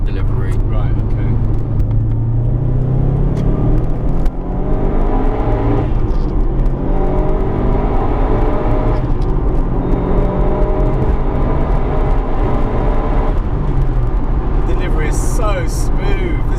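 A turbocharged Subaru Impreza WR1 fitted with a VF35 turbo accelerates steadily, its engine droning and rising smoothly inside the cabin while people talk over it throughout.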